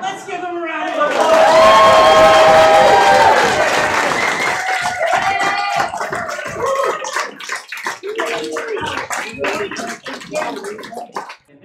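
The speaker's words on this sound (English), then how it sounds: "Let's give him a round of applause." A burst of clapping and crowd noise swells quickly, holds loud for a few seconds, then thins into scattered claps and chatter.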